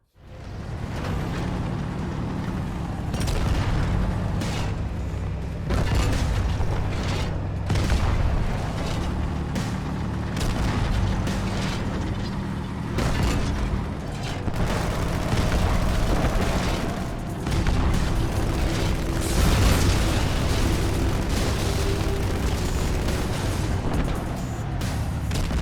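Tank battle in the Halo 2 video game, with repeated booming explosions and heavy weapon fire over a constant rumbling engine and score bed, loud and continuous throughout.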